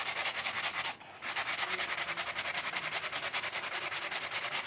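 Machine sanding on the surface of a wooden horsebow: a steady, continuous abrasive rubbing close by, with a brief dip in the sound about one second in before the grinding hiss resumes at an even level.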